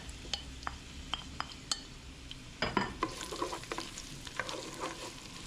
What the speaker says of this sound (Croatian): U padelu ili lonac, kako god zovete, na domaće ulje, zdinsamo kapulu